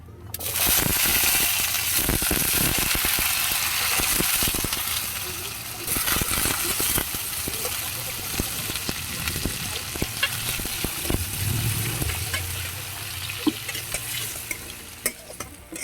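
Cut potatoes fry with cumin in a pan in a home vegetable dish. A steady sizzling hiss runs throughout, broken by irregular scrapes and clatter from stirring, with a brief faint voice.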